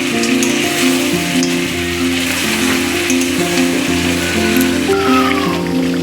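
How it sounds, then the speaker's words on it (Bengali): Goat mutton curry being stirred in a pan, a loud, dense and steady sizzle heard up close throughout, with no talking. "আমি এবার নেড়ে নিব।"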